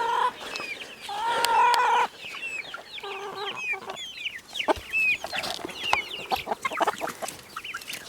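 Hens and a rooster on a small homestead farm clucking in a busy, overlapping chorus, with loud close calls near the start and many shorter clucks and squawks scattered throughout.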